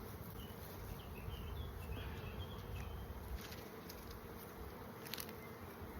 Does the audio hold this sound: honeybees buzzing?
yes